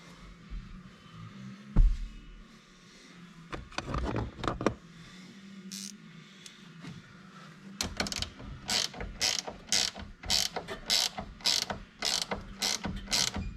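A ratchet tightens the nuts on a tow mirror bracket for a 1990 Chevy truck, first in a few short bursts, then in a fast run of rhythmic clicking strokes, close and clear.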